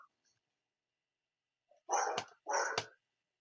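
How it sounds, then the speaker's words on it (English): A dog barks twice in quick succession, moderately close, in an otherwise quiet room. "barking dog"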